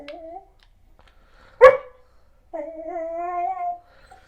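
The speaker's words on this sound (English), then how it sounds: "This is my dog Callie barking." A black Goldendoodle barks once sharply and close, set between drawn-out whining, whimpering vocalizations, with quiet pauses in between.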